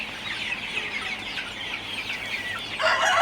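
Chickens cluck steadily in a poultry farm shed during hot, humid weather, a dense overlapping chorus of many birds at moderate distance, rising slightly louder near the end with no talking.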